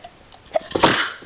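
A single close, loud human sneeze, a brief intake followed by a sharp burst, with no talking.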